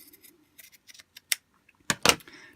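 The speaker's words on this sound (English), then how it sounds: "what I'll do is I'll cut the lace" Scissors snip across lace trim on a doll's top, a few soft quiet cuts and rustles followed by two sharper, louder snips near the end, with no talking.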